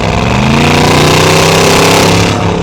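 A Mercedes G63 AMG fitted with a Fi-Exhaust, valves closed, gives a loud, steady engine roar with a deep rumbling tone that holds close and continuous throughout.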